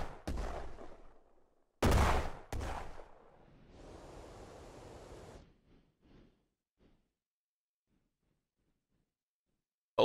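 Gunfire from heavy guns in the Brick Rigs block-building game: a burst of shots, a second loud salvo, then a sustained rushing whoosh that fades into scattered distant impacts and near silence.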